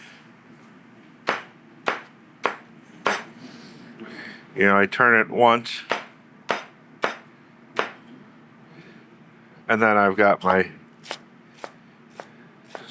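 A long 8-inch knife dices celery on a cutting board in a home kitchen, a run of sharp, evenly spaced chops with two short bursts of fast rapid chopping, while someone talks throughout.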